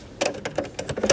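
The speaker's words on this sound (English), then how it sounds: "I'll sew one more stitch." A Janome Horizon sewing machine makes a few separate stitches, a short series of sharp mechanical clicks and whirs spaced unevenly, close and fairly quiet.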